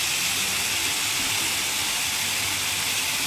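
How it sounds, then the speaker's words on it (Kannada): A large volume of water pours down from a big village pond into a channel, making a steady, loud, close rushing roar with no voices. "ನೋಡ್ರಿ. ನೀರು ಹ್ಯಾಂಗೆ ಬೀಳ್ತದೆ."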